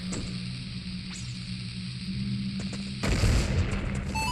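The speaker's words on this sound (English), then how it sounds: "Let's go ahead and take this bomb. Throw it over here." A bomb blast in Zelda Ocarina of Time 3D, a sudden low boom and rush of noise near the end of the clip over a steady game background hum, with no talk.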